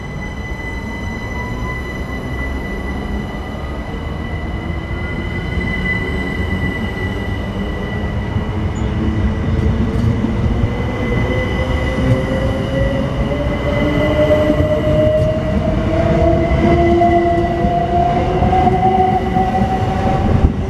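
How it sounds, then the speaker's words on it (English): A Southern Railway train pulls away from platform 4 at Battersea Park station, its rumble building steadily as rising motor tones and wheel squeal grow louder nearby. "Please stand clear from the train at platform 4. This train is ready to leave."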